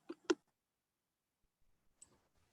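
Two quick clicks on a computer keyboard in a meeting room, close and fairly loud, then a faint patter of softer taps after a pause of more than a second.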